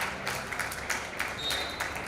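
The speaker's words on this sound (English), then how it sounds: "she gets the applause from an appreciative crowd of supporters from Singapore" Applause from a crowd of Singapore supporters at a women's over-40 Masters World Cup hockey match against Germany, faint, steady distant clapping lasting the whole moment with no clear talk.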